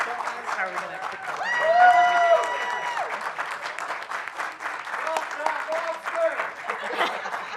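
Applause from a conference audience at a Drupal event, a steady wash of clapping mixed with cheers and laughter, with voices talking over it throughout.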